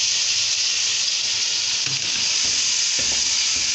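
Taro root (arbi) cooks in a pan of fried masala, giving a loud, steady sizzle and hiss up close, with a couple of faint stirring knocks near the end.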